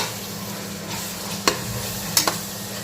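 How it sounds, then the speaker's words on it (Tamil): Tomatoes soften as they sauté in a pan for beef biryani. A steady, moderate sizzle carries on throughout, broken by a few sharp clicks and scrapes as they are stirred. "தக்காளி நல்லா குழைவாக வதங்கணும், அப்போ தான் நல்லாயிருக்கும்"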